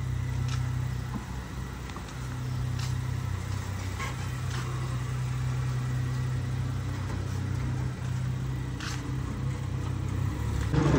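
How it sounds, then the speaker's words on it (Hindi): A car engine hums steadily at a low pitch, close by, with faint clicks and rattles over the continuous rumble. "बंगले से गाड़ी बाहर निकाल रहे हैं"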